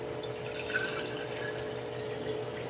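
Hot chicken broth poured into hot sanitized canning jars for pressure canning, a continuous soft liquid trickle and splash running steadily throughout at low volume.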